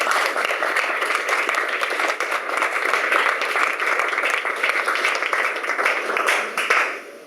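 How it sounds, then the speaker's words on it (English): Steady applause from an audience at a panel discussion on warehouse automation, sustained clapping filling the room at even strength for several seconds before tapering off at the end. "First round of applause for the two."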